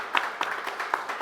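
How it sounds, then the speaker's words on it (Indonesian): Scattered studio audience clapping in a short burst, a few distinct claps spaced unevenly and fairly faint. "Tepuk tangan dong buat Kadila."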